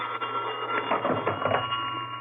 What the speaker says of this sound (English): That's not the same bell. It's a telephone.